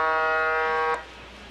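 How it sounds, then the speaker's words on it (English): A harsh buzzer sounds at a professional women's surf contest to end a heat. It is one steady, loud electronic tone lasting about a second and then cutting off, followed by faint ambient noise. "And that's the buzzer as we're getting ready to line up our next heat of Luana Silva, Chelsea Rowett, Keala Tomoda"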